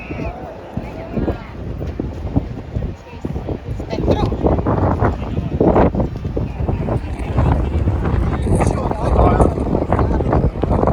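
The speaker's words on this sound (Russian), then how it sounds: "Поднялся дикий ветер." Strong wind buffets the microphone in loud, gusting rumbles on a Florence street near the Uffizi Gallery at sunset, with traffic-like noise mixed in throughout.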